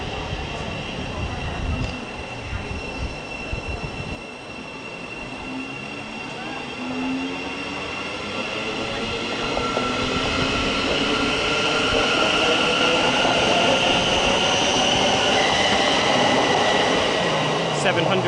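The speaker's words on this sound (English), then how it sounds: "slightly graffitied 700-016 leaves for the Sutton Loop." A slightly graffitied Thameslink Class 700 train, 700-016, departs West Hampstead Thameslink, its electric motors whining upward in pitch as it pulls away, with rail rumble and squeal building steadily.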